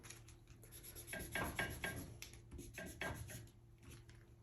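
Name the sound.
pencil making marks on paper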